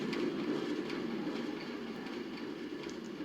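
A Minecraft minecart train rolls along rails in the video game, producing a steady, moderately loud rumbling clatter that holds evenly from start to finish.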